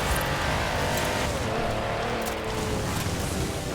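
A 5.5-litre twin-turbo V8 G-Wagon pickup in Forza Horizon 4 roars steadily and loudly throughout, a dense continuous engine drone with faint tire noise and no pauses.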